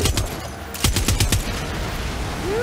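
A turret machine gun in the video game Far Cry 6 fires loud, rapid bursts of shots, strongest in the middle, over low background rumble.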